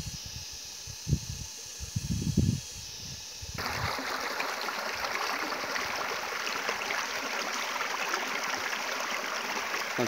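A forest stream flows in a steady, broad rush of running water that starts abruptly partway through, preceded by a few brief knocks and rustles at close range.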